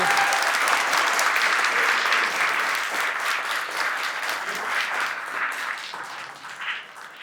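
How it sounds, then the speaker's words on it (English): A podcast studio audience applauding a guest at the close of the show, a thick burst of clapping that starts loud and gradually thins and softens toward the end. "Let's give Glen a round of applause."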